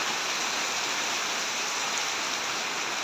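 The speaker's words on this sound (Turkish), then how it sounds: "çok güzel yağmur yağıyor." Heavy rain mixed with hail pours steadily over a village in Bozkuş, a dense, unbroken roar of water that is close and loud throughout.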